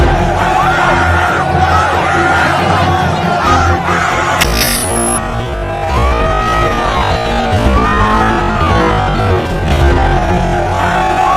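A dense crowd at a concert screams and yells continuously, a loud, sustained roar of many voices with shrill whoops rising out of it throughout.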